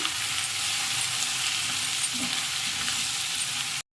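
Brinjal (eggplant) pieces fry in a pan with turmeric and salt, giving a steady, dense sizzle throughout with a faint stir-scrape midway, close and uninterrupted until it cuts off abruptly near the end.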